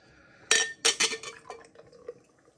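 Badger's Golden Champion golden ale is poured into a glass, beginning with a clinking knock of bottle on glass and followed by a short splashy gush of liquid that tapers off within a couple of seconds, close and clear.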